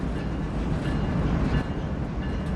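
A freight train rolls through Cajon Pass in Train Sim World 3, giving a steady, heavy low rumble that stays loud and close for the whole moment.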